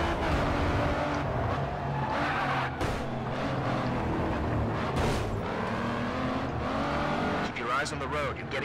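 Cars racing in Grid 2 with dense engine roar, tire squeal and skidding, punctuated by impacts, loud and continuous while someone talks over the action.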